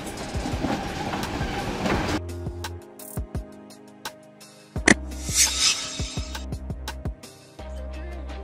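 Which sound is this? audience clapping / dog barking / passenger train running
passenger train running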